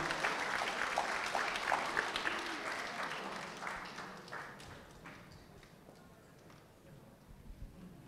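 Clapping from a pageant audience for a contestant starts loud and dense, then thins out and fades over several seconds, with a little noise underneath.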